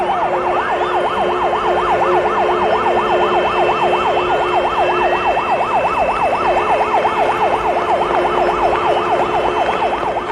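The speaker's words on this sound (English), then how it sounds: "And when the sirens blew," A loud emergency siren sounds at noon at the CKD industrial complex, wailing continuously, its pitch sweeping up and down in a fast, regular cycle over a low traffic rumble.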